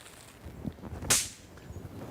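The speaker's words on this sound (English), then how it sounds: "There's something about the loud boom of fireworks" A firework sound effect: one sharp, loud bang cracks out midway over a low, rumbling background, then fades quickly.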